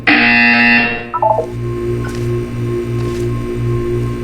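A loud harsh buzzer in the video game Portal 2 blares for about a second, then cuts off, followed by a few quick electronic tones and a low pulsing hum.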